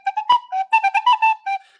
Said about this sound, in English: It's not a recorder, is it? It's a tin whistle.